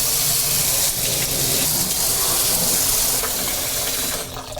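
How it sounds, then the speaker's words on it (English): Hot water runs from a kitchen tap into a container in a loud, steady gushing stream that fades out near the end. "We're going to fill the container up with the hot water from the tap"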